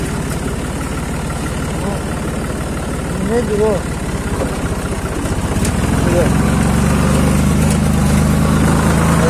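A tractor engine idles at a low, steady rumble near a rainy village walnut orchard, then revs up to a heavier, louder drone. Short remarks are spoken over it.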